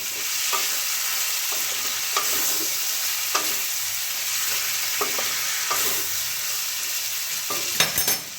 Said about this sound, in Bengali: দিয়ে এটাকে আমি 4 থেকে 5 মিনিট ভালো করে কষিয়ে নেব